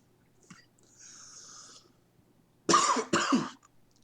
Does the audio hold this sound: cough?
yes